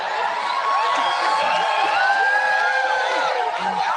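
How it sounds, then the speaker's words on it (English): A crowd cheers and whoops continuously at a May Day event, a dense, loud wash of voices with shouts rising above it throughout. "And they cheer."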